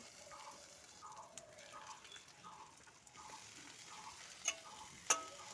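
Chopped onion, chilli, ginger and garlic fry in hot oil for homemade singara filling, giving a faint, steady sizzle with a soft, regular ticking pulse and a couple of sharp utensil clicks near the end.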